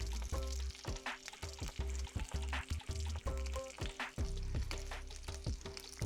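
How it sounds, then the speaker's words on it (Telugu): Curry leaves and whole spices (shahi jeera, cloves, cinnamon and cardamom) hitting hot oil: loud, close, crackling sizzle with repeated sharp spatters and stirring clatter throughout. "మన స్టైల్లో చేసుకుంటున్నాం కాబట్టి కొంచెం కరివేపాకు వేస్తున్నాను"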